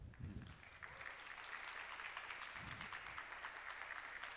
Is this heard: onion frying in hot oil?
no